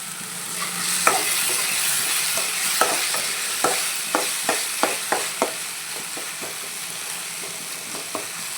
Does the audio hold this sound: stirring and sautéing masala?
yes